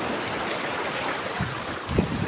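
Strong ocean waves surge against rocks at Dingalan, Aurora, heard as a continuous loud wash of surf and wind noise, with heavier crashes near the end and no talking.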